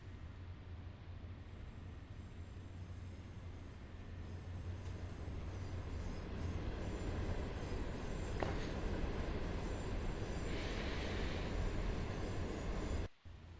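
A Pendolino train in the SimRail game rolls along with a steady rumbling hum and rail noise, building gradually louder over several seconds before cutting off abruptly, with no voices.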